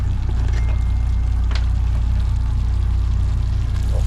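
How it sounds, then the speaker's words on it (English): Water pours steadily into a cooking pot of onions and roux at a bayou campsite, a continuous rushing splash over a low constant hum. "Now we're gonna put about half a pot of water."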